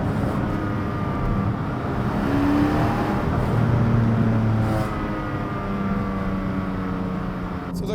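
Porsche 718 Cayman GTS 4.0 with manual gearbox, engine droning steadily from inside the cabin while driving, rising and falling gently with road noise and no talking.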